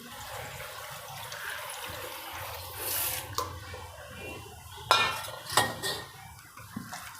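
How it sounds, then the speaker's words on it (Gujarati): Water poured and splashed onto kurkure dough in a kitchen, heard as a few close trickles and wet splashes with dish and utensil clatter, louder toward the end. "આવી રીતે પાણી નાખી થોડું"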